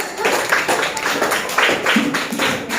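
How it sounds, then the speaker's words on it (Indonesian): A fifth-grade class in a school lesson claps hands in a continuous, busy patter of overlapping claps that fills the room at close range, with no one speaking over it. "Iya, tepuk tangan."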